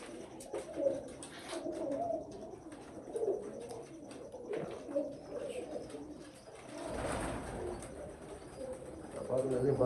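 Breeder pigeons coo in soft, repeated low calls through the whole stretch, with someone talking over them close by.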